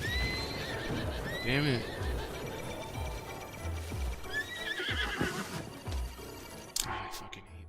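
A horse in The Legend of Zelda: Breath of the Wild whinnies several times among trotting hoofbeats and game sounds, with a brief spoken exclamation over it.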